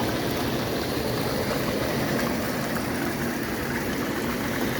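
Water pours and splashes steadily from a hot tub waterfall over a low pump hum, continuous and fairly loud with no talking.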